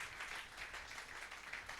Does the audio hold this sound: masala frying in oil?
no